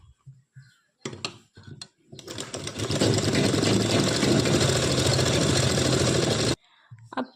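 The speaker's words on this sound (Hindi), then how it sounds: "टेकिन को हम सिल लेंगे" A sewing machine stitches blouse darts, a steady close whirring run of several seconds after a few short starts, with a voice briefly heard before and after.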